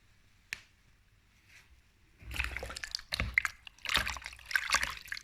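Water splashing and dripping as a face is washed with lukewarm water, wet bursts and squishy splashes starting after a quiet pause, close and moderately loud, in irregular clusters.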